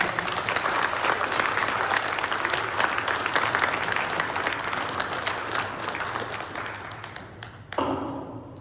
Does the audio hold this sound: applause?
yes